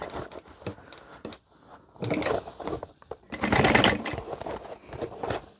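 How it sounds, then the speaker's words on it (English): A sewing machine top-stitches a handbag in uneven runs, with short bursts of rapid stitching broken by pauses and a longer, louder run in the middle, close up with no talking. "we need to fold this to top stitch"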